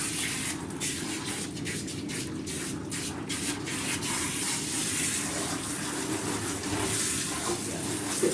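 Water sprays steadily from a hose or shower head, rinsing shampoo out of a dog's coat during a bath, a close, continuous hiss and splash that holds even for several seconds.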